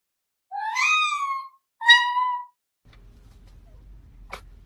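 A black cat gives two clear meows close by, the first longer and the second shorter, followed by quiet low background noise and a faint click.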